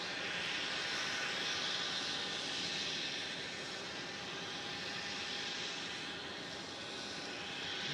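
An airliner being pushed back at Melbourne Airport gives a steady, broad engine whine and roar held at an even level throughout, with no talk.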